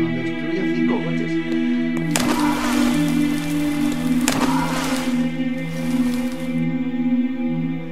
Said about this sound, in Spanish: No pares de llover sobre los hombres del tiempo